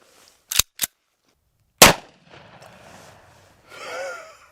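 A 300-grain Hornady rifle round fired into backpack body armor gives a sharp, loud report. It follows two earlier quick bangs and then fades into a quiet tail, and a brief voiced exhale comes after.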